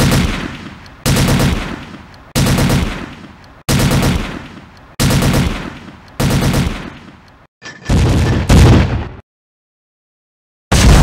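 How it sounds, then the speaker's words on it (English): Heavy gunfire from the WWII strategy game Close Combat, set around D-Day at Abbaye d'Ardenne: loud repeated bursts of machine-gun and rifle fire in regular blasts, then a short gap of silence before another burst. "We're under heavy fire."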